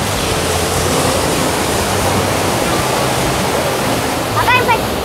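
Steady broadband wash of surf breaking along Anyer beach in Banten at night, a continuous close roar with a brief voice cutting in near the end.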